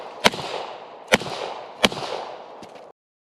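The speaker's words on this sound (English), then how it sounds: "We're gonna dump these last 4 rounds that I've got of the hollow points into these guys." Three loud, sharp reports from a Glock 20 10mm pistol firing hollow point rounds at watermelons about five yards away, followed by a fainter fourth shot. Each report leaves a short echoing tail outdoors.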